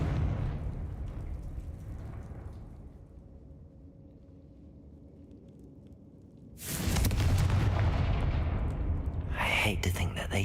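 Confringo fire spell explosions in the video game Hogwarts Legacy: a subdued stretch gives way to a sudden loud, full-bodied blast that roars on, with another sharp burst near the end.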